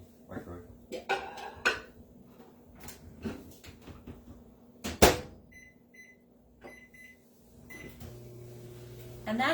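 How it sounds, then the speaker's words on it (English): Kitchen clatter of dishes and cupboards leads to a microwave oven heating a steamer, with door handling, beeps from the keypad and a steady low hum starting near the end. "So I'm going to pop this in the microwave"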